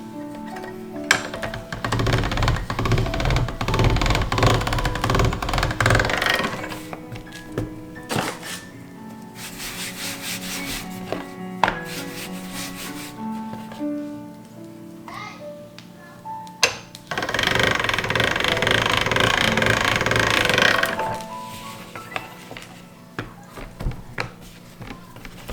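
Homemade garlic parsley pasta dough for bigoli being fed through a pasta machine, giving a steady mechanical whir and rumble with clunks, loudest near the start and again in a second burst later on.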